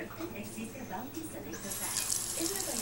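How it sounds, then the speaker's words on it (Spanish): Cold water runs and splashes steadily into a plate, growing louder partway through, with faint background noise and no clear talk. "Y le vamos a echar tantita agua fría"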